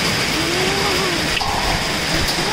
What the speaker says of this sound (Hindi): ये देखिए ये देखिए मम्मी पत्थर ओले।